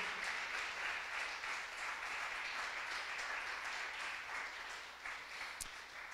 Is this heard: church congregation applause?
yes